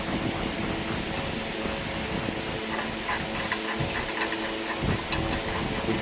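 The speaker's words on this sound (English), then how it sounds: "So this is what's called an internal bearing extractor." Steady metallic ratcheting and clicking runs through the whole stretch as an internal bearing extractor is fitted to the bearing's inner race and tightened inside the destroyed engine of a heavily neglected BMW S1000RR. It is close and continuous, with no talk.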